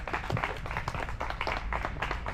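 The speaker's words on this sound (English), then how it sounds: "Clap." A short burst of audience clapping at a polyglot club gathering, steady, moderately close claps lasting about two seconds without talk over them.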